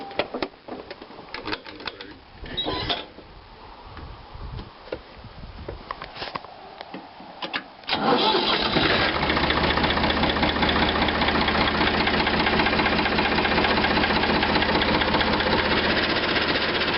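A Ford 3600 40 hp tractor's diesel engine cranks amid handling noise and then catches around the midpoint, settling into a loud, steady, close idle with a rhythmic knock.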